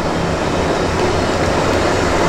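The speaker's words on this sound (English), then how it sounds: "That's our train arriving. This is the Tejas Express." The Tejas Express, a private train on the Mumbai to Goa route in India, arriving at a station: a loud, steady rumble of wheels and carriages rolling past close by, with no talk over it.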